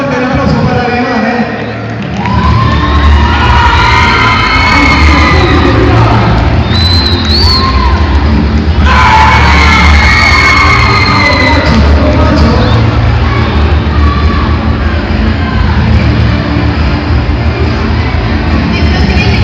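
Crowd at a 2016 school election event at Secundario 10 in Río Gallegos applauds and cheers for a contestant, with dense, steady clapping, whoops and shouts filling the space continuously for about twenty seconds.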